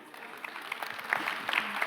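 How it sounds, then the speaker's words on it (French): Audience applause greets a CNRS innovation director being introduced at a university and research-organisation event: a steady, fairly soft wash of many hands clapping, filling the short stretch on its own. "que l'on peut applaudir."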